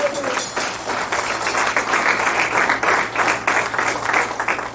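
Applause from a church congregation fills the space, a dense, steady wash of clapping holding at an even loudness throughout with no voices on top.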